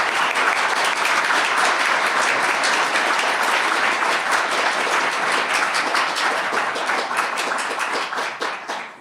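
A room full of audience members at an education dialogue event breaks into loud, dense applause that holds steady for several seconds and then tapers off at the end.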